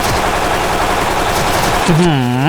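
Dense, continuous rapid gunfire from a MAD TAR-21 machine gun in the game Special Force, loud and close, with a brief rising-and-falling tonal effect near the end.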